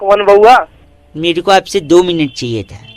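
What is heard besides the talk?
None of the usual background noises is heard.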